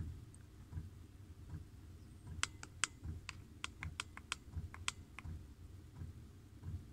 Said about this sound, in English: So that's the speed of the pump running the fuel in